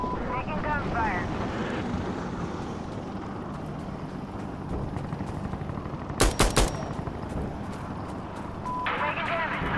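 Rapid automatic gunfire from the tactical shooter game Insurgency Sandstorm rattles on under steady battle noise, with a sharp cluster of close, loud shots in the middle and voices talking throughout.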